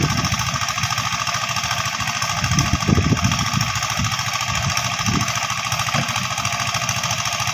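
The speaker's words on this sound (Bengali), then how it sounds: "এখান থেকে এই যে মাটি মেশিনে দিয়ে মাটি নরম করে পরিপক্ত করে" A brick-making clay softening machine runs with a steady, loud, rapid mechanical chugging and knocking, a constant engine-like pounding with no pauses.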